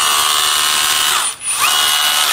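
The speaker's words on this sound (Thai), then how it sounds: "เจาะค้อนกระแทกปรับได้4ระบบ" A KRESS KU390 cordless brushless 20V rotary hammer drill runs loud and close, a steady high-pitched whine that briefly dips as it slows, then spins back up, with no voices.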